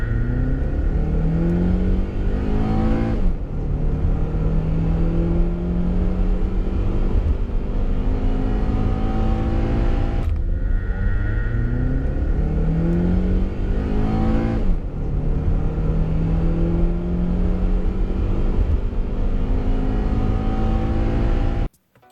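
A stock Honda TSX engine revs hard through the gears, pitch climbing repeatedly toward its 7,000 RPM redline with VTEC engaging at 6,000 RPM, sharp drops at each shift, loud and steady throughout.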